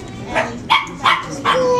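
Miniature chihuahuas bark at a shelter fair, giving about four short, sharp yips in quick succession, close and fairly loud over a busy background.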